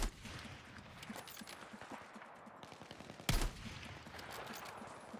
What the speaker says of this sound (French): Allez, comme d'habitude, quelques coups de sniper.